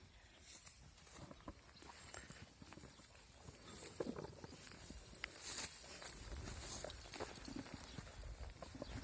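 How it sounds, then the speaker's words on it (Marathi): Hooves of a pair of bullocks thud softly and irregularly as a plough is drawn through a potato field outdoors, faint and distant, growing slightly busier toward the end. "सर्वप्रथम बैलांच्या नांगराद्वारे अशा प्रकारे"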